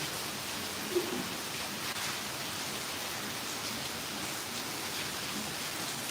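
Rain falling outdoors in a steady, soft wash of hiss, even and fairly faint throughout, with one small tap early on.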